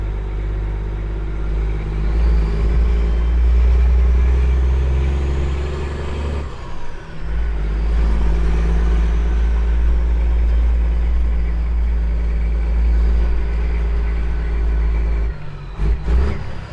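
Big rig truck engine rumbling through downtown Cincinnati, a loud continuous low drone with rising and falling revs, a couple of brief dips and clatters near the end, no speech.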